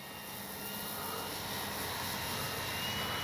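A radio-controlled Flightline F4U Corsair model warplane flies overhead, a steady droning engine roar that grows slightly louder over a few seconds, with no talk.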